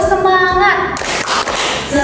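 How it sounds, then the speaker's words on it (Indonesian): Schoolchildren in a classroom do a short rhythmic spirit-clap chant, quick sharp claps in a patterned burst mixed with young voices chanting close by. "Yuk, tepuk semangat."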